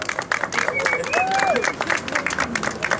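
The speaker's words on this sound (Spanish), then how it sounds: "Yo quisiera pedir un aplauso para los organizadores," An audience applauds organizers at a first-anniversary cultural event for a mural newspaper, a steady wash of clapping with a whistle rising over it, while voices carry through the crowd.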